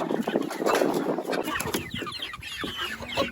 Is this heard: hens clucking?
yes